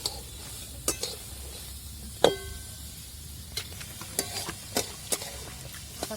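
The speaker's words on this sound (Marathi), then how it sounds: "बघा आता कांदा परतायला टाकला आणि कांदा चांगला परतून घ्यायचा आपल्याला" Onion being sautéed in a pan for poha, with scattered spoon-on-pan clinks and scrapes over a soft, quiet background.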